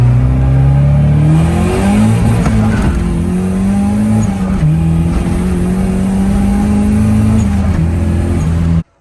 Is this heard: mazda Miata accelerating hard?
yes